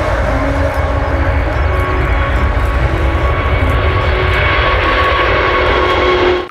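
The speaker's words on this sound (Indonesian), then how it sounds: "ada pesawat mini." Toy mini airplane giving a loud, steady droning engine hum with a faint tonal whine, continuous for several seconds before cutting off at the end.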